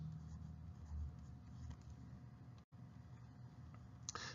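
A pen writing out a math solution, soft continuous scratching strokes close by over a quiet room hum.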